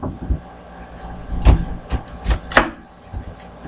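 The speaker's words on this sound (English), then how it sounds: "I cut off the top" A knife cuts the top off an onion on a cutting board, giving a few sharp, separate chops close by, spaced irregularly over a few seconds.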